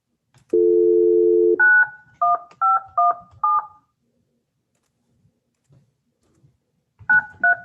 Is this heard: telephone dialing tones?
yes